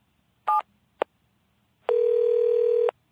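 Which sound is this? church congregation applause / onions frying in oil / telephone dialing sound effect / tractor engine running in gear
telephone dialing sound effect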